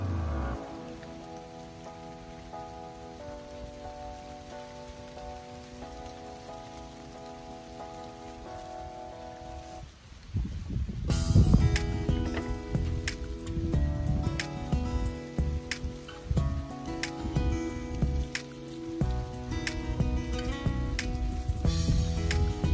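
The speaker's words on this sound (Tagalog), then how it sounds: "kahit na ulan." Rain falls outdoors on a garden with raised vegetable beds, starting as a light, quiet patter and then abruptly growing into a much heavier, louder downpour that keeps drumming steadily.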